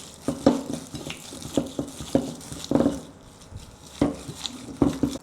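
Sliced beef is mixed by hand with oyster sauce and cornstarch marinade, giving a series of wet, squelching pats and stirs in uneven bursts, close up and with no voices.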